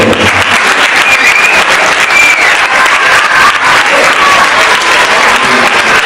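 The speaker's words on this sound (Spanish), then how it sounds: "Un fuerte aplauso." Loud, continuous applause from an audience at a school theatre performance, steady and close, with faint voices mixed under the clapping.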